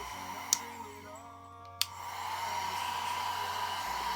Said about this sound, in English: It's a nice little mini dryer, hair dryer, like on the go.